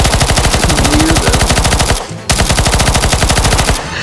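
Rapid automatic gunfire in Counter-Strike: Global Offensive, a loud, steady stream of closely spaced shots in two long bursts separated by a brief pause, with no talking over it.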